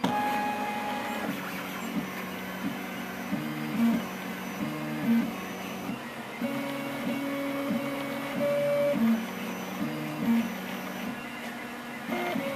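A Rostock MAX v2 delta 3D printer fitted with Astrosyn stepper dampers runs a print, with steady whirring and shifting stepper-motor tones that warble up and down in short patterns, moderately loud and continuous throughout.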